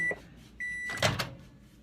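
A microwave oven in a home kitchen: two short beeps, then a longer beep, followed by a latch clunk as the door opens, close and fairly loud with no talking.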